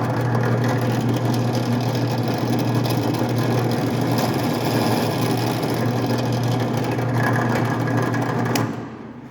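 Drill press running steadily while drilling fret dot holes in a guitar fingerboard, a loud, constant motor hum and whir that holds throughout and then drops away at the very end as it winds down.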